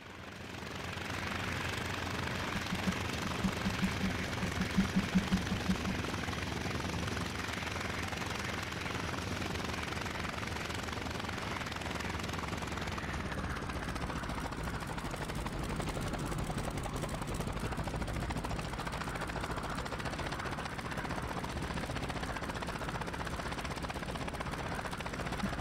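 The engine of a WWII aircraft in IL-2 Sturmovik drones steadily as it comes in to land, a continuous loud rumble with a whining tone that shifts in pitch midway.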